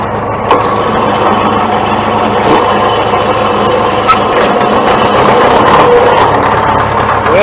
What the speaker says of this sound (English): Listen to that. This is a darn good tractor.